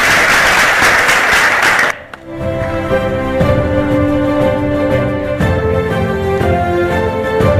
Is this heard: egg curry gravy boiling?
no